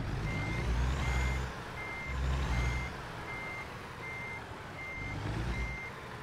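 A heavy truck in American Truck Simulator backs up, its reverse alarm beeping in a steady, evenly spaced series over a low rumbling diesel engine that swells and fades in pulses.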